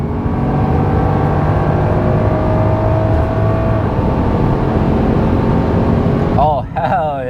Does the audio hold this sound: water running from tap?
no